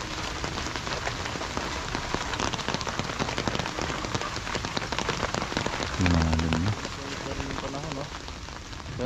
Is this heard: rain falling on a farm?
yes